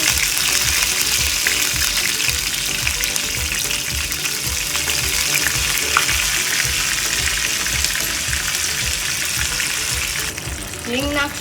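Curry leaves and dried red chillies hiss and crackle in hot oil with cumin and fenugreek seeds, a loud continuous sizzle with a faint pulsing undertone that carries on for several seconds.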